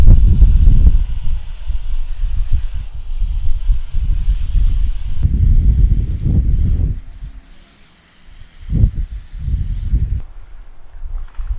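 A garden hose sprays water onto amended soil in a rose planting bed, making a rushing hiss in uneven surges that dips briefly near the end before resuming.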